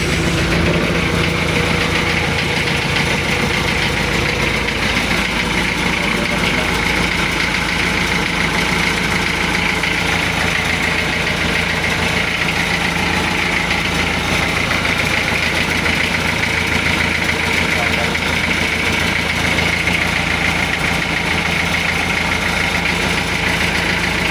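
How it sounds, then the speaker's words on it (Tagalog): A boat engine idles in a steady, continuous low drone with a vibrating hum, loud and close, running alone without speech for the whole stretch. "Check natin makina guys."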